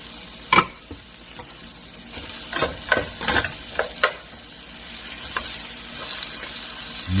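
Onions tossed into a pan of frying potatoes give a soft, steady sizzle with a few sharp clinks and scrapes of stirring near the start, then settle into a quieter hiss.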